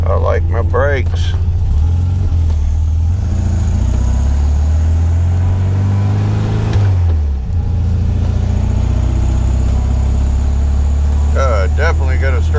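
A 1972 VW Super Beetle's air-cooled engine pulls steadily in first gear, a constant low drone with a brief dip and rise in pitch midway, while someone talks over it at the start and end.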